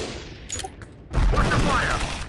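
Anti-aircraft gunfire in the video game Drone Shadow Strike: after about a second of quieter scattered pops, a loud, dense, continuous barrage of firing bursts in and fills the rest of the clip.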